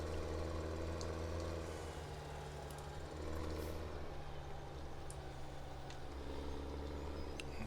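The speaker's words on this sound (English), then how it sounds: "Let's bring this tractor around." Tractor engine in the Farming Simulator 17 video game, a steady low droning hum with a constant mechanical tone and a few faint clicks on top, continuous and alone.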